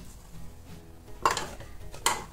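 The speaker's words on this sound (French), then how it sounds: "Je vais mélanger le tout jusqu'à ce que le mélange soit crémeux" Butter and sugar being mixed in a salad bowl for a marble cake: two clear scraping clatters of a utensil against the bowl over a quiet background, close and moderately loud.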